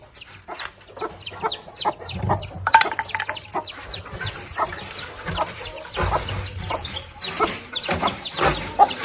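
Young roosters and chicks cluck repeatedly at close range, a busy overlapping chorus of short calls with scattered rustling and movement.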